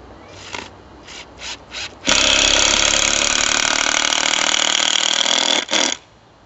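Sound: screwing posts into the corners of a cold frame

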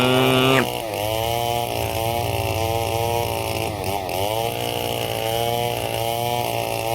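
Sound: chainsaw engine cutting wood

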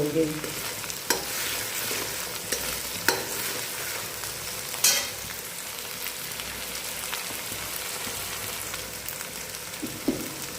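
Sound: masala spices being roasted in a pan

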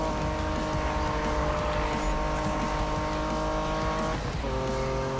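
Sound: Porsche car engine racing in Need for Speed video game

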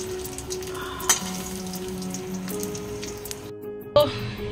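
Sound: eggs frying in a pan

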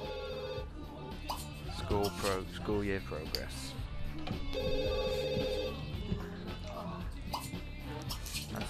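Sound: telephone ringing in video game The Sims 2

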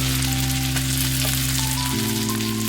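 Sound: pea, capsicum and green chili paste frying in ghee

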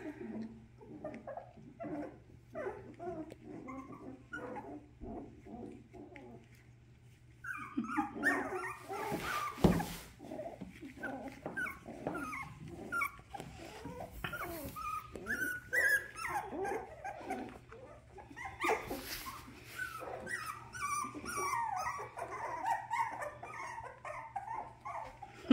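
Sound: puppies growling

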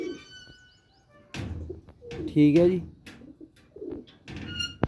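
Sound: pigeon cooing

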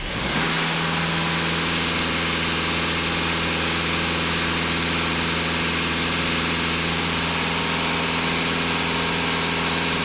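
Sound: car engine idling and revving

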